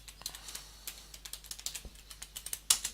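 Quiet, close computer keyboard typing, a string of irregular light key clicks entering a password, ending with one sharper, louder keystroke.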